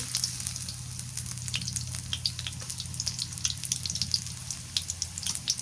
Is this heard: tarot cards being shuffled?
no